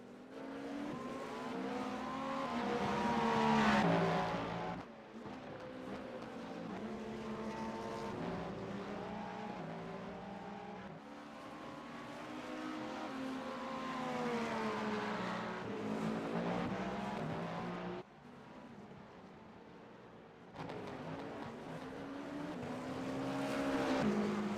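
GTP prototype race cars in the iRacing sim during qualifying, with engines rising and falling in long sweeping pitch arcs as cars pass and shift. The roar is steady and loud, broken by brief abrupt cuts, and no voices are present.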